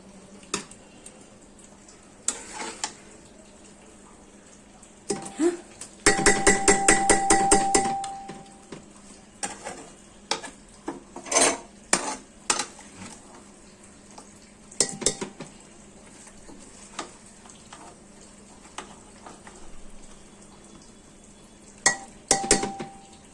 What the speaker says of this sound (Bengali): মাংসটাকে তুলে নেব, ওই কুকারে দিয়ে দেবো।